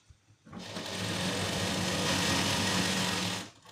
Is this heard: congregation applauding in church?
no